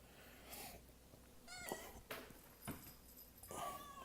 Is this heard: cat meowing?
yes